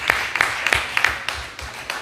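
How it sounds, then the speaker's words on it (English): A handful of people clapping at a community event, a few separate claps spaced irregularly, moderately loud with some room echo. "So let's give her a round of applause."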